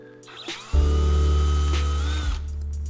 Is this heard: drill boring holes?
yes